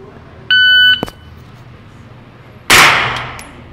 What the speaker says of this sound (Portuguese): ao som do timer